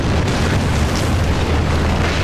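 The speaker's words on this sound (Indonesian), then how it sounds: "Sing melempar granat ke dalam tubuhnya dan seketika meledakkannya hingga berkeping-keping" A grenade blast in a film, heard as a loud, dense continuous rumble of explosion and debris with no distinct onset, filling the whole short stretch without speech.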